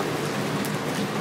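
Rain falling steadily outside a small room, a soft, continuous hiss of drops with no voices over it.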